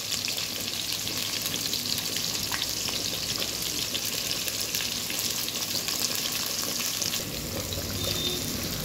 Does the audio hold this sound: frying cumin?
yes